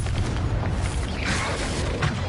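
Explosion of the Confringo fire spell during combat in the video game Hogwarts Legacy, a dense booming blast with crackling bursts that fills the whole short moment, loud and continuous.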